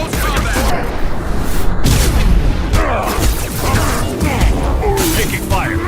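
Combat gunfire in Mass Effect 2, loud and continuous, with overlapping shots, booms and mechanical clatter filling the scene while voices speak over it.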